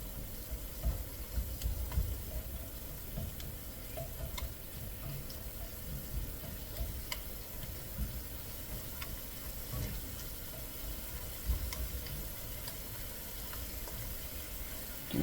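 Food fries in a pan on medium-high heat, a steady, quiet sizzle with occasional clicks and stirring scrapes throughout, with no voices.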